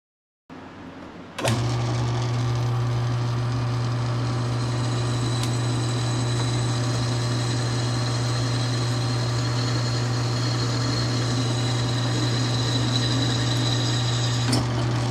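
A 1/4 inch bit bores bolt holes in the body of a Chevrolet Suburban, a steady, loud drill whine starting abruptly and holding a constant pitch throughout, close to the microphone with no talking.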